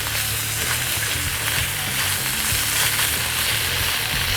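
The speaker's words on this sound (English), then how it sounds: "Get our mushrooms back over the heat. We drop our bison back in. Mix it all around." Mushrooms and bison meat fry steadily in a hot pan, a dense, continuous sizzle with stirring scrapes mixed through, loud and close with no talking.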